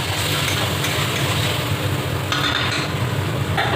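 Chopped tomato is stirred into masala frying in a pan for chana paneer masala, giving a steady, close sizzle with soft scraping of the spoon throughout.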